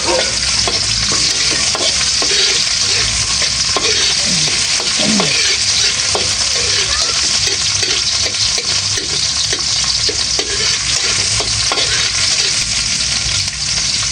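Onions frying in a pan for ginataang tambakol, giving a loud, dense, continuous sizzle with scattered stirring clatters throughout and no voices.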